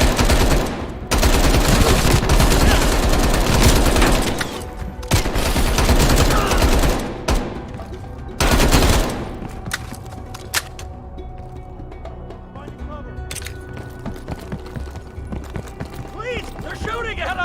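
Bursts of automatic gunfire rattle in Black Ops Cold War combat, heavy rapid volleys for several seconds, then sparser shots and clatter, with voices shouting over the fight.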